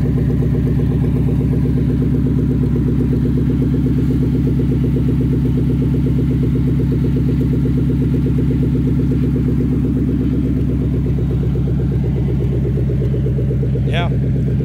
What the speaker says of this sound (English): That engine runs great.